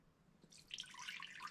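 Water splashes and drips into a small vessel while a glaze is being thinned, a soft near burst of liquid trickling that starts after a quiet moment and continues to the end.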